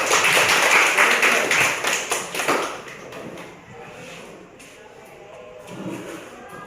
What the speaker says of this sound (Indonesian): Untuk kelompok 3 kita berikan aplaus untuk mereka.